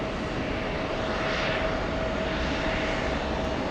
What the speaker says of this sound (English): I think we can get here before this American heavy takes off.